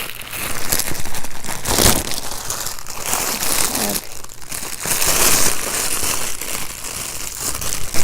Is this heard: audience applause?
no